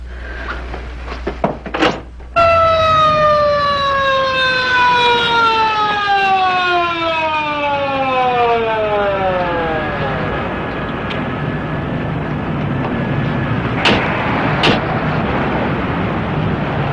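An ambulance siren winds down in a long descending wail after a door thumps shut, the tone sliding lower over several seconds and fading to a faint whine, followed by a couple of sharp knocks.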